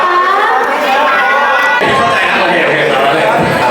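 Cheering squad at an idol singing contest in Ranong province, Thailand: a loud, steady crowd roar with shouting and chatter, people talking close by throughout.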